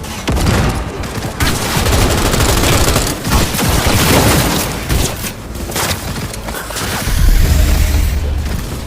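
Gunfire in the video game Cyberpunk 2077, a dense continuous fusillade of rapid shots and booms lasting several seconds, loud and close with whooshing effects and a faint voice underneath.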